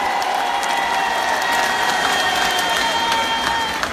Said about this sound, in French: ça mérite encore les applaudissements